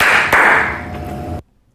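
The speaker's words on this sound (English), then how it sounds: "we're going to play it and confirm that that is where the 2 claps are" Two sharp hand claps played back from a recording, the second following a fraction of a second after the first, each ringing out briefly before cutting to silence.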